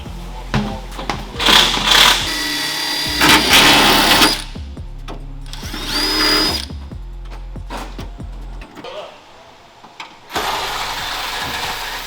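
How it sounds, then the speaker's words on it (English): A power drill bores bolt holes into a subframe support on a 1973 Trans Am build, whining in several bursts of a second or two with pauses, clanks and rattles between, close and loud. "we want to have the holes drilled for the sleeve,"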